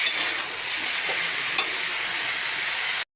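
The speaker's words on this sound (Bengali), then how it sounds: "সবজিগুলো ভাজা ভাজা করে নিচ্ছি" Vegetables for shukto stir-fry in hot oil with a loud, dense, continuous hiss from close by, a couple of faint scrapes, before cutting off abruptly.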